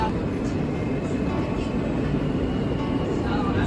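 A New York subway train rumbles steadily and loudly from inside the car, a dense broadband roar with a thin high whine running throughout and no break.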